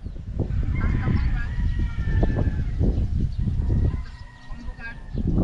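Chickens cluck and squawk in repeated bursts amid general commotion, with voices talking loosely over them.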